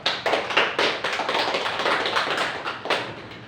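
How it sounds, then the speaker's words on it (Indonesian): Students applaud together at the end of a practical lesson at a vocational school, giving a steady burst of hand clapping that lasts about three seconds and fades slightly toward the end. "Silakan diberikan tepuk tangan sebelum kita akhiri proses pembelajaran kali ini"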